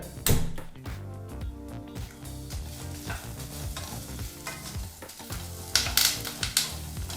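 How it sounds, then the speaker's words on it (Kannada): Spices frying in a spoonful of oil over a medium flame, with a soft sizzle under clattering stirring and scraping in the pan, near and uneven, plus occasional louder knocks. "ಈ ಪದಾರ್ಥಗಳನ್ನೆಲ್ಲ ಹುರಿಯೋದಕ್ಕೋಸ್ಕರ ಸರಿಸುಮಾರು ಒಂದು ಟೇಬಲ್ ಸ್ಪೂನಷ್ಟು ಎಣ್ಣೆನೂ ಸಹ ಹಾಕಿ ಈಗ ನಾಲ್ಕರಿಂದ ಐದು ನಿಮಿಷ ಮೀಡಿಯಂ ಫ್ಲೇಮ್ನಲ್ಲೇ ಈ ಪದಾರ್ಥನೆಲ್ಲ ಹುರ್ಕೋಬೇಕಾಗತ್ತೆ"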